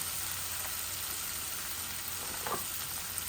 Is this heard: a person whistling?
no